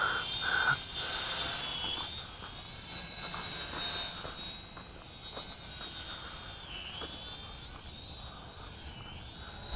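An FY326 Q7 quadcopter drone flies, its rotors giving a thin, steady high-pitched whine that drifts slightly in pitch and is moderately close and faint, with no talking.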